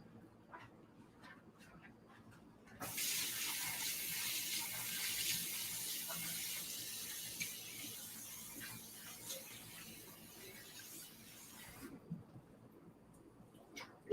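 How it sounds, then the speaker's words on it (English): Two cups of rice being washed in water, a steady broadband rush of running and swishing water that starts abruptly, continues for about nine seconds, then stops, with faint clinks and bumps before and after. "This is the rice. 2 cups. I'm going to start washing."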